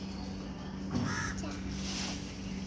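Caged birds kept indoors at home give a few harsh, crow-like caws over a steady low room hum, moderately close, with no one talking.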